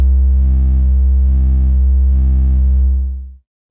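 A sustained synth tone is played on the velocity-sensitive pads of an AKAI APC64 controller, swelling in brightness three times as pressure aftertouch is applied, then cutting off cleanly near the end with no voices.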